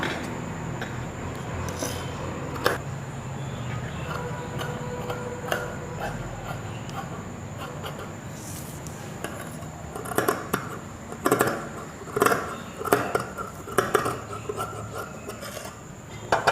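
Scissors cutting churidar lining fabric, slow steady rubbing snips of blades through cloth with a few sharper clicks and taps near the end, close and moderate.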